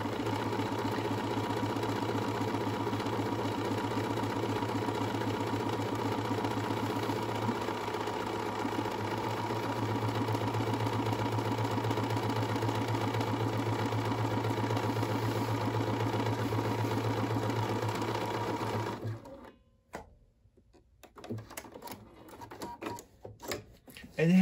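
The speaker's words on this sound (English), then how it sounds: "it made the buttonhole from start to finish all by itself" Bernina 535 sewing machine stitches a buttonhole automatically with a steady, close mechanical hum and rapid needle rattle for about nineteen seconds, then stops, leaving a few clicks and handling noises.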